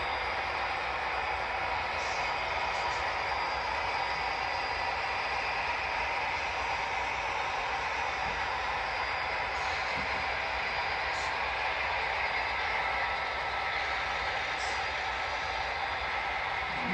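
HO scale model Alco RS locomotive number 5498 running on a layout, giving a steady, even mechanical hum and whir with a few faint high clicks over it.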